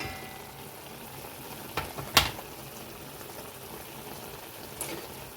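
Chicken sukka simmers in a pot as the meat releases its water, giving a low, steady bubbling hiss broken by a couple of sharp clinks.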